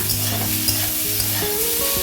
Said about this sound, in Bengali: এদিকে দেখো আলু ভাজা হচ্ছে